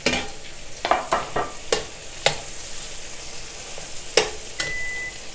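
Carrots, red and green bell peppers, cabbage and onion fry in a pan, a steady sizzle punctuated by several sharp spatula clacks and scrapes spaced irregularly, close and clear.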